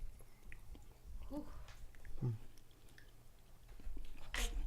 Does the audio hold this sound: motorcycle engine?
no